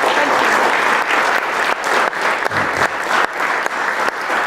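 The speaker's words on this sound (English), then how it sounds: "Please give him a big, big, big applause." Loud, steady applause from an audience welcoming Rajiv Malhotra at a gathering in the UK Parliament, a dense wash of clapping that holds evenly for several seconds.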